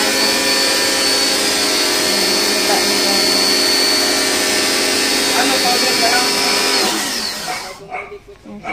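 An air conditioner is being cleaned in the background, producing a loud, continuous broadband roar of machinery for about seven seconds before it cuts off into quieter, uneven noise, with a person talking over it.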